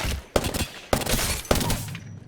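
Three sharp, evenly spaced gunshots ring out from a heavy-ammo gun in Apex Legends, each a loud crack followed by a rumbling echo and mechanical tail, close and clear with no speech.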